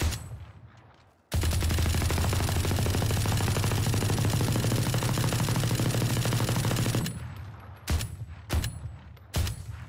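Automatic rifle fire in the Valorant video game, a sustained loud burst of rapid shots lasting several seconds, followed by a few short separate bursts and single shots.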